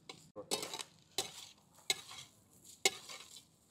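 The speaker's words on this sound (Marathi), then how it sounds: "आता राईस व्यवस्थित परतून घेऊ आपण याच्यामध्ये।" Egg thecha rice gets stir-fried in a pan, with four or five distinct spatula scrapes against the pan over a faint sizzle, quiet and close, and no talking.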